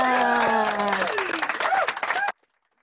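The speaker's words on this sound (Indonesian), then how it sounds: "Boleh dong tepuk tangannya." Audience applause welcoming a speaker at an info session on selling, scattered clapping with a few cheers under louder voices and tones, cutting off abruptly into silence after about two seconds.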